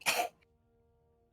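A character in the video game What Lies Below lets out one sharp, close cough, followed by a brief faint tail and a short second burst at the end.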